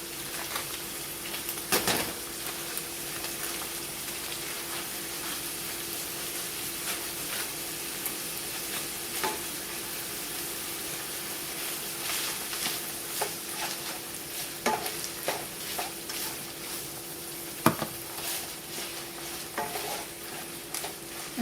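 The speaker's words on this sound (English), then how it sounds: "you're going to add one chopped onion in there" A small chopped onion sizzles steadily in a pan for taco lasagna, close and continuous, with a spoon now and then scraping and stirring through the crackle.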